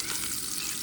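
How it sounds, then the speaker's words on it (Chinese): Steak sears in a hot oiled pan on an outdoor road-trip stove in Australia, giving a loud, dense, continuous sizzle up close with no speech. "把牛排先煎了"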